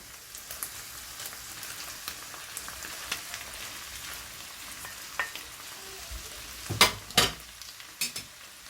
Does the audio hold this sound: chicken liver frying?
yes